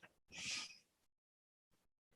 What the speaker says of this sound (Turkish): Ve derin bir nefes alalım burundan.